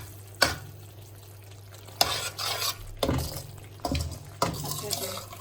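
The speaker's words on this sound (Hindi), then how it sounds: "थोड़ी देर अपने मसाले को भूनेंगे ताकि पक जाए अच्छे तरीके से" Masala spices sautéing in oil for a dhaba-style urad dal tadka, a soft steady sizzle broken by several sharp spoon scrapes and stirring bursts against the pan, close and fairly quiet.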